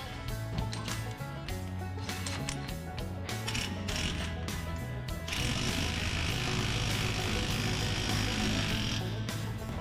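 Rapid rattling impact wrench hammering the pinion nut on an '84 Chevy truck, loud and close, running in bursts of stuttering ratchet-like clatter with a brief pause then a sustained run.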